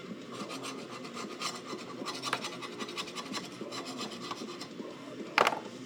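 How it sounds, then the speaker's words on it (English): Mower blades are scraped by hand in a rapid run of rasping strokes, close and moderately loud, ending with one sharper scrape. "when I scrape them like this kind of gets all of it"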